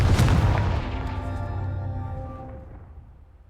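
Confringo fire spell exploding in Hogwarts Legacy, a single loud close boom at the start that rolls off into a long fading rumble over about three seconds, with no talk.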